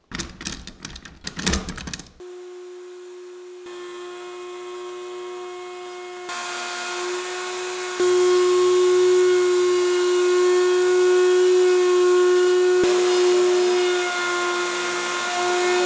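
A woodworking router cutting a round-over edge on a table, a brief clatter first, then a loud, steady whining hum that holds and swells as the cut goes on.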